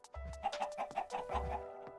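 Chickens in the Minecraft video game clucking in quick repeated bursts with short low grunts, close and fairly faint, with no other sounds over them.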